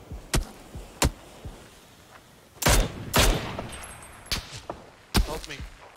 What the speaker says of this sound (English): Bro, we're literally getting shot at.